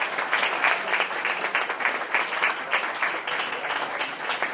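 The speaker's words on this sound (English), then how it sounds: "So how about a round of applause for our winners?" Sustained applause from an audience, many hands clapping steadily throughout with no one speaking.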